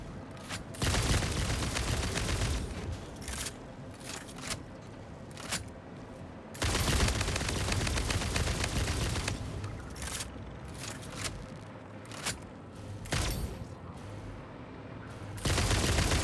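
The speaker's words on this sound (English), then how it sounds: "Who's shooting me?" Gunfire from hostile creatures in the game Satisfactory arrives in long bursts of rapid shots, separated by quieter pauses with scattered single cracks and impacts, loud and close with no voices.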